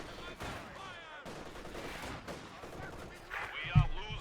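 Scattered gunfire aimed at German Panzer teams in the World War II strategy game Company of Heroes 2, sharp cracks and short bursts with a heavier impact near the end, under a busy battle din.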